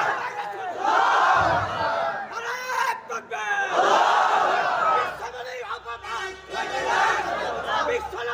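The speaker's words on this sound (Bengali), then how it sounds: "একটা তাকবীর হবে।" A large crowd at an Islamic sermon gathering roars a takbir chant, three loud, massed shouted surges rising and falling in quick succession with short gaps between them.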